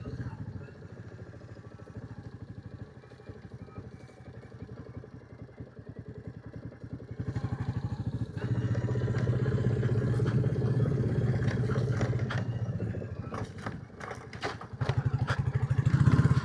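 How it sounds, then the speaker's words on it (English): Royal Enfield Classic 350 motorcycle riding along an old road, its single-cylinder engine thumping steadily, then rising louder as the throttle opens, with rattles and clatter near the end. "So I can't go riding on my motorbike."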